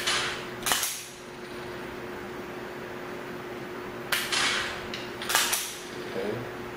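Dry-fire practice with a P365XL pistol: three sharp isolated trigger clicks spaced a second or more apart over a steady low background hum, close and crisp.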